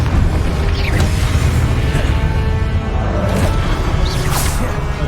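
Expelliarmus and Confringo spells cast in the video game Hogwarts Legacy, loud layered booming blasts with swishing whooshes in steady succession, densely packed and continuous.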